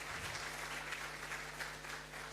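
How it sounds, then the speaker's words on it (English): Audience applause at a diplomatic conference of heads of missions, a steady, dense wash of clapping from a large hall crowd lasting throughout, over a faint low hum. "let's put our hands together once again"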